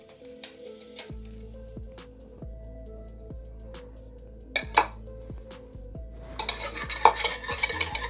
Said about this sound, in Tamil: நல்லா mix பண்ணுங்க.